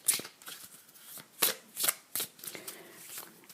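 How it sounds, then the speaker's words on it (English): Playing cards are shuffled in quick riffled bursts, crisp and close, with short pauses between each pass. "we will continue to shuffle"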